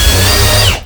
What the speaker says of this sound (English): So I have to pre-drill and recess all of these screws to make sure they fit appropriately.